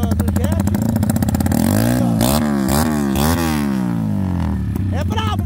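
A Yamaha R15 155cc races a stock 160 motorcycle, with loud, close engine roar rising in pitch through repeated gear changes during hard acceleration.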